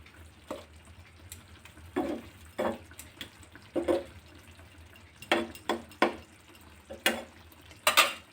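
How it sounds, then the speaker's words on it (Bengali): Eggplant curry with garam masala stirred in a pan, soft scraping and clinking strokes of a spatula in irregular bursts, close and fairly quiet against a low background hum. "দিয়ে একটুখানি নেড়ে দেবো।"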